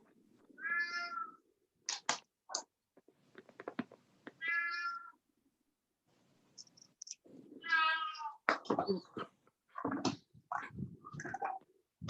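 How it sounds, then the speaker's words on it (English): A cat meows repeatedly and insistently during an online board meeting, loud and close, in several drawn-out calls with bumps and clatter between them, and no talk over them. "Somebody's cat has an opinion."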